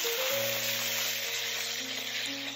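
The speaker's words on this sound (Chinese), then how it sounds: "利用锅里的底油下葱花和姜丝，煸出香味儿，加入郫县豆瓣酱" Spring onion, ginger and Pixian chili bean paste hiss steadily in hot oil in a wok for homestyle stir-fried tofu, an even close sizzle with faint tonal ringing underneath and no talking.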